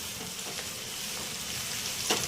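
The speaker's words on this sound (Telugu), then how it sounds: "బాగా కలుపుకొని ఈ ఆగడానికి టైం పట్టిద్ది ఫ్రెండ్స్ ఒక పది పదిహేను నిమిషాలైనా పట్టిద్ది మధ్య మధ్యలో కదుపుకుంటూ వేపుకోండి" Ivy gourd (dondakaya) pieces frying in a pan with turmeric and salt, giving a steady, close sizzle with faint stirring scrapes throughout and no voices.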